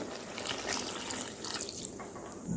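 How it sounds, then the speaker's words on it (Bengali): A bowl of milk pours steadily into a vegetable gravy cooking in a pan for a vegetarian Thakurbari-style dish, giving a continuous liquid rush that is close and moderately loud throughout, with no talk. "এবার গ্রেভিটা তৈরি করার জন্য আমি এখানে দিয়ে দিচ্ছি এক বাটি দুধ"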